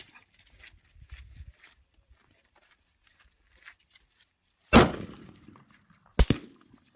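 Two sharp rifle shots ring out close and loud, a few seconds apart, each with a short echoing tail, while a Vortex Sonora 4-12x44 scope is zeroed. Faint low rustling comes before them.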